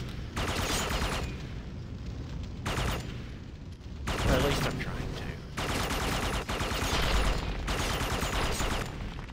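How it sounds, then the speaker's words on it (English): Rapid automatic gunfire in Red Faction 2, loud sustained bursts of rattling shots separated by short pauses, with a voice talking faintly beneath. "I'm blowing things up with bullets"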